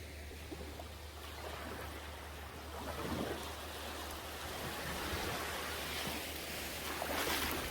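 Waves wash along a beach shoreline at a Maldives resort, a soft, continuous surf hiss at low volume with gentle swells rising and falling.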